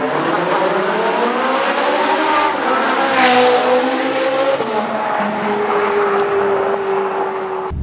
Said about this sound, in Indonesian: ada orang yang pamer kendaraannya yang berjenis Ferrari 458. Rupanya dia pamer dengan cara ngebut ya